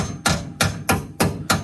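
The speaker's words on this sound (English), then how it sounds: "I'm sure you just take a little hammer and whop it a couple times." A small hammer taps a brass door bushing into a Kawasaki KRX 1000 UTV door: five sharp, evenly spaced metallic strikes, close and loud, with nobody speaking.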